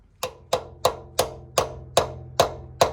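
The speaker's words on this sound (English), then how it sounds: "pretty much kind of use the same hammering technique to hit it in" Eight sharp metallic hammer strikes drive a pilot bushing into place during a 240SX clutch install, at a steady, even pace, each one close and loud with a short ringing decay.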